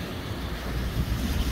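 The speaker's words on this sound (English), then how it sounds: "Look at all the water running down there" Water pours over the Uitenhage dam wall in South Africa, a steady, loud broadband rush with continuous churning and no voices.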